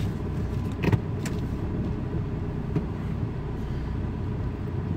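A car idles and pulls away after being shifted into drive, with a steady low engine rumble from inside the cabin and a couple of brief clicks and rattles, without talking.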